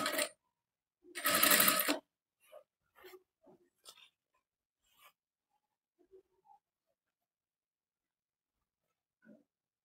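Sewing machine stitching a sleeve onto a boatneck blouse: a loud run of stitching followed by a shorter one, then scattered faint clicks and fabric handling in a quiet room.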